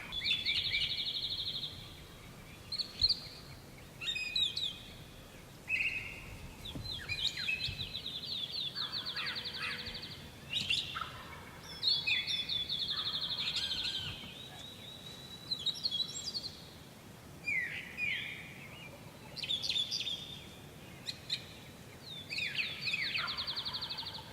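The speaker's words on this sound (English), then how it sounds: "some hens walked by and toms continued to gobble off in the distance" Wild turkey toms gobble far off during a Wisconsin spring hunt at dawn, their faint bursts scattered among steady, nearer songbird chirps and calls across a quiet morning field.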